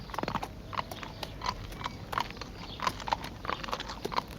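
A mare moves about close by, with scattered hoof clops and shuffling thuds at an irregular pace, fairly soft with no talking over it.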